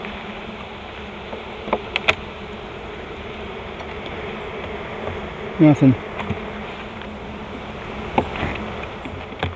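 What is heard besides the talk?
honeybees buzzing in an open hive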